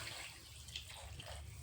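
Water poured into a cooking pot while making besan gatte sabzi, a steady soft splashing stream running quietly through the short moment with no talk over it.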